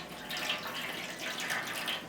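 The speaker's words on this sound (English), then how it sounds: "And now I'm gonna add some cold water." Cold water is poured into a hot cast iron pan to create steam for baking homemade baguettes, giving a steady, moderately quiet hissing splash that lasts about two seconds, with no talking.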